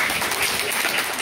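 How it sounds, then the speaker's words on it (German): An indoor audience at a Christmas community event applauds a woman called onto the stage, with dense, even clapping from many hands filling the whole short stretch. "Groot applaus"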